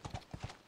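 Horse hooves clip-clop four times in a quick, uneven rhythm in The Last of Us on PS3, close and fairly loud, with no talk over them.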